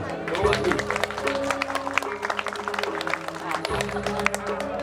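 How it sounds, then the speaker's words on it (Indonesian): An audience claps for a Balinese calonarang temple performance, dense overlapping hand claps with steady tones and voices from the stage running beneath. "Tepuk tangan Mimun"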